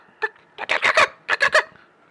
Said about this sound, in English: Two gigantic birds come flying at you.